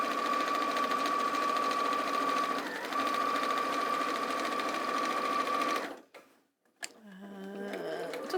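A domestic sewing machine runs steadily, stitching the last side seams of a Christmas make, with a continuous whirring hum close by; it stops near the end, followed by brief handling noise.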